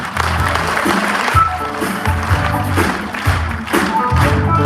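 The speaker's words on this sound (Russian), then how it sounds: "Аплодисменты" An audience at a Christmas concert stage show applauds, sending up a dense burst of clapping with thumping beats underneath, loud and sustained for several seconds.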